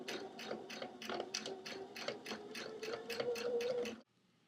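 Sewing machine driving a denim needle through a double thickness of towel, a close, quick rattling run of regular stitching ticks for about four seconds before stopping abruptly, leaving a faint hum.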